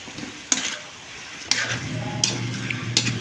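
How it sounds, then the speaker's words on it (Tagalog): Chicken wings sautéed with chicken cubes in a pan, soft sizzling throughout with four sharp clinks of a utensil against the pot at roughly one-second intervals. "Igisa natin mabuti para lumasa dito yung mga sangkap"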